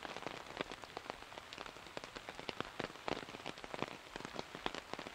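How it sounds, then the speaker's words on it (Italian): Rain at a river fishing spot, a steady patter of drops with scattered louder taps on nearby surfaces, quiet and continuous with no voices. "piove, purtroppo non so se qua riusciamo."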